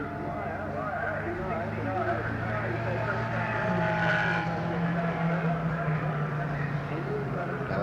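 1960s series production touring cars, two Holdens and a Ford Falcon, race at Warwick Farm Raceway with a loud, continuous engine roar whose pitch rises and shifts as they pass, under steady race commentary.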